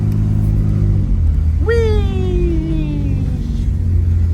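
A 1986 Pontiac Fiero GT's engine drones steadily and loudly as the car drives, while a voice lets out a brief rising-then-falling exclamation over the rumble.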